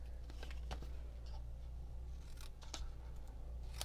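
Scissors making quick miter snips through paper for a back-to-school tote craft, a few sharp close clicks and crisp cuts over a steady low hum.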